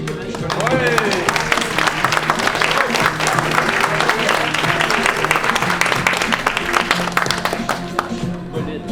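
An audience at a fashion show in Essipit applauds, dense continuous clapping close by that holds steady for several seconds, with some voices underneath.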